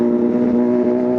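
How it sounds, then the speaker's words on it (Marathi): A Kawasaki Z900 motorcycle engine holds a steady, loud droning note in a mountain pass, close and continuous for a brief moment with no talking. "घाटात असला जबरदस्त आवाज सोडायला का नाही गाडी"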